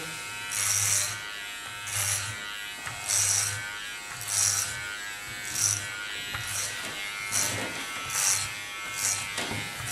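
Electric hair clipper fitted with a 9 millimeter guard cutting short pixie-style hair, a close buzzing motor that swells in rhythmic strokes about every second as it passes through the hair.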